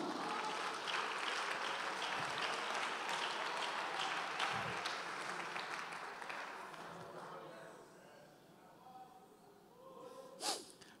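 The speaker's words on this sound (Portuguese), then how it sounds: "Aplauda Jesus." A church congregation applauding, a broad wash of clapping that slowly thins and fades out over several seconds, with scattered voices, a cough and a sniff near the end.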